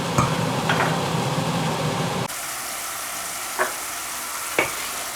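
A ham sauce reducing in a pan sizzles steadily up close. The bubbling is louder at first, then drops to a softer simmer, with a few sharp utensil taps over it and no voices.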